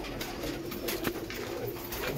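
Pigeons in a loft coo softly and continuously, close by, with a steady background murmur throughout.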